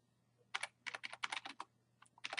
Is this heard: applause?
no